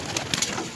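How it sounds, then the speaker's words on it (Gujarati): Kept pigeons give a brief soft cooing, a couple of low throaty pulses close by in a quiet setting. "આમ જો કબૂતર રાખ્યા છે ભાઈ પાસે"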